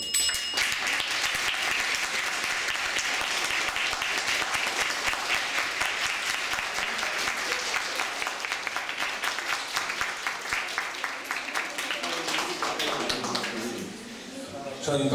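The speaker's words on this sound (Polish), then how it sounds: "to oklaski chyba dowodzą, że to była naprawdę dobra debata" An audience claps at length after a school debate between two Dębica schools, a dense, even roar of hand claps that holds for many seconds before thinning out near the end.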